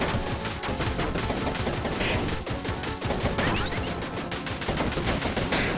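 Dense, continuous automatic gunfire from a doubled-up weapon in the game Mars Infestation, loud and relentless with crashing impacts throughout, no talking heard.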